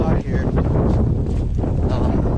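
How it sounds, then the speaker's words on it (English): Strong wind buffeting a microphone outdoors near a roadside with trees, a loud continuous low roar and rustle throughout, with someone talking under it. "Sorry about the wind, guys. It's pretty bad out here"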